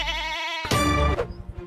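A goat lets out a loud, close bleat with a wavering, nasal tone, then a second harsher cry that breaks off into short rough pulses.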